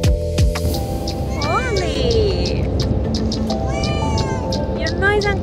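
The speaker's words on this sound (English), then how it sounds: "a cat that needs to travel in the crate" A cat meows repeatedly from inside a travel crate in a moving car, a series of rising and falling plaintive cries close to the microphone, with a person's brief exclamation at the start and road hum beneath.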